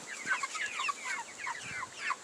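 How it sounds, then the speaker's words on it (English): Several large meat chickens cluck and murmur in a backyard coop, a busy scatter of short calls over a couple of seconds, moderately close with no talking. "Here are the meat birds."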